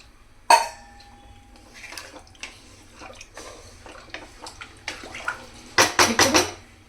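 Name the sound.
pouring a lota of water into mutton in a cooker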